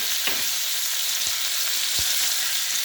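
Lobster claws fry in a pan with a steady, loud broadband sizzle, broken by a few soft thumps and scrapes as they are turned and stirred; no voices.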